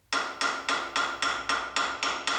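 A regular hammer drives new knuckle bearing races during a Land Cruiser 79 swivel hub rebuild, eight sharp, ringing metallic blows struck at an even, quick pace, close and alone.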